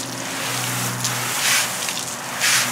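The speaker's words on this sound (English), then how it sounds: "Start with the top and work the water down." Water from a hose sprays onto a car during rinsing, giving a hissing rush that swells in bursts over a low steady hum.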